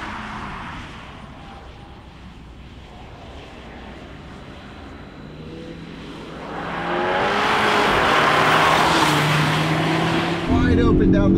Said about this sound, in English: Wide open down the straight. Wow, this thing's cracking off the shifts, deploying all of its 619 horsepower, and it's fast.